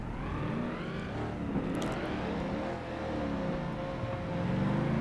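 Video game car engine in a FlatOut 2 derby on PS2, droning loudly and steadily throughout with rising and falling revs, continuous and close, no talking.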